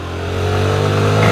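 A Ducati motorcycle engine revs up steadily, loud and close, with a rising droning tone and a faint clatter underneath.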